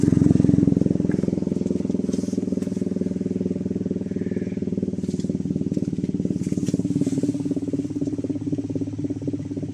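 A UK Mez H1/B2 siren rotor spinning freely on new bearings gives a steady, loud mechanical hum with a fast, even rattling pulse that holds constant for about ten seconds, with no talk over it.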